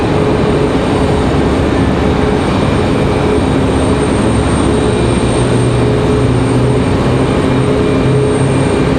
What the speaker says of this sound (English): Starting the other engine.